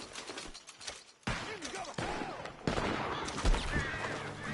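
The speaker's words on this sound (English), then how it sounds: "The gunshots are coming from that barn!" Gunfire in the video game Red Dead Redemption 2 crackles as a rapid series of sharp shots in overlapping bursts, fairly close and growing louder over a few seconds, with faint game sounds mixed in.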